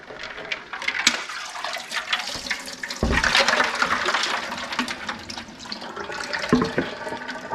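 Water pouring and draining off freshly blanched and chilled kale in a basket, a close, splashy run of trickling and gushing with brief surges, no talk.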